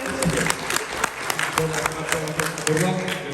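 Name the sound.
audience applause at forum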